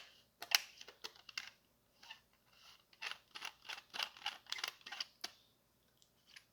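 Small clicking, scraping taps as a metal chassis slides into a custom Princess Leia lightsaber hilt from Darkwolf Sabers, a quiet irregular series of close mechanical clicks and rubs with brief pauses.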